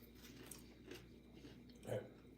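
Quiet, close chewing of crunchy cheese dogs, with a few soft crunching bites spread across a hushed room background.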